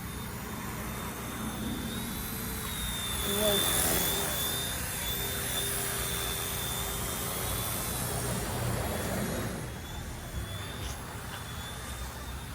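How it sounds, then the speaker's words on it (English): A small RC helicopter's rotor and motor drone steadily up close with a high whine, continuing throughout under occasional talking. "Look at me, I'm flying a helicopter."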